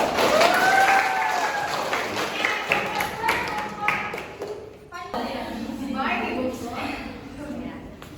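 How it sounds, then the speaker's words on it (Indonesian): A classroom group claps for the first student team after a lesson presentation, with scattered handclaps at first, a brief lull, and then a softer burst of clapping. A tonal chime sounds early on, and voices can be heard throughout. "tepuk tangan untuk kelompok satu"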